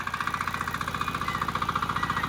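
A tractor engine idles with a steady rhythmic chugging and knocking pulse during rice planting in a field, close and continuous with no talk over it.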